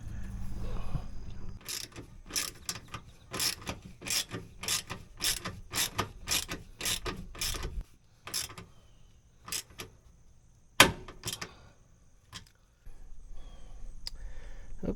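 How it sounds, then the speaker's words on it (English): A threaded hanger rod is turned up under an RV to support a black water pipe, giving a series of close, sharp ratcheting clicks in rhythmic bursts with short pauses between. "now I'm going to work on getting this threaded on up here"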